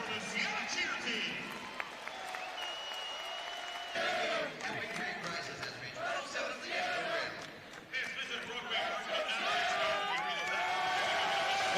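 Arena crowd at a basketball championship game between Iona and Siena cheers and applauds the Siena cheer team, a continuous roar of voices and clapping with some talk mixed in, swelling in bursts.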